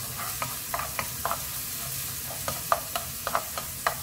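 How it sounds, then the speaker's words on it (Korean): A spoonful of garlic stir-fries in cooking oil in a pan. A steady sizzle runs throughout, with a regular, light scrape of a utensil stirring it. "마늘 살짝 볶아주세요."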